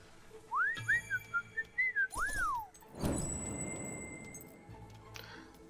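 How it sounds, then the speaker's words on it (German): Melodic whistling by a character in the video game Fable 3: a short run of rising and falling whistled notes, clear and close, followed by a brief burst of game noise and a soft ambient hum. "Pfeifen"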